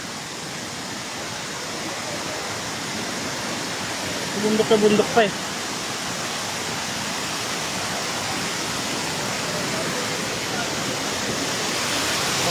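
Sprite Falls waterfall pours in a steady, broad rush of flowing water that fills the whole scene, with a brief voice speaking close by partway through.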